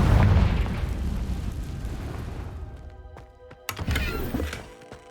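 Confringo fire spell in Hogwarts Legacy, a loud booming blast up front that rumbles and decays over a couple of seconds, then a few sharp crackling pops and thuds near the end.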